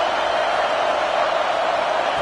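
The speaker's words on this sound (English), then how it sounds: "The roar of the crowd trying to fuel this defense to keep them pinned in their own end." A packed football stadium crowd roars in a steady, loud, broadband wash that stays constant and unbroken, filling the whole space with no distinct voices standing out.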